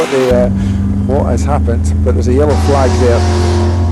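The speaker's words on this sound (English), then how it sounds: "That's the sound of our leader just crossing the line in the TR8 as he goes underneath the Beatson's Building Supply Bridge." A Triumph TR8 race car at a Scottish Classics Sports and Saloon Championship race, crossing the finish line under a bridge, gives a steady, loud engine drone beneath continuous commentary.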